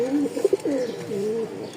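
A pair of Gola pigeons from Rajshahi coo close by, with repeated throaty, rolling calls and a couple of louder bursts in the middle, heard alone without talk.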